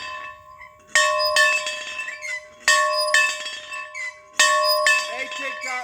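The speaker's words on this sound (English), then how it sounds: "Here's our bell ring." A hand bell rings loudly and close by in three separate bursts, each a bright metallic clang with a lingering, shimmering ring.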